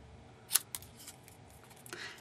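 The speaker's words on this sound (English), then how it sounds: "Just trim it off a little bit so you know you don't see the edges" Scissors snipping around the edges of a paper card, one crisp close cut followed by a few fainter slicing sounds, quiet and without talking.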